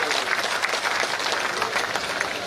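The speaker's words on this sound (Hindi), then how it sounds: "जोरदार तालियां बजा के नीता दीदी का भी वंदन अभिनंदन करें।" An audience breaks into loud, sustained applause at a public gathering with local officials present, dense overlapping claps from a large crowd filling the space evenly with no pauses.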